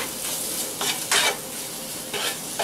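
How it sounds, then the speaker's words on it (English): Pieces of chicken frying in a pan sizzle steadily while being stirred, with a few louder bursts of scraping and stirring close by and no voices. "Give the chicken a little stir."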